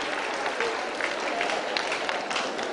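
Steady, dense applause from a crowd rewarding a quiz answer about superfluidity, continuous and even for a few seconds at moderate loudness, with no clear talking over it.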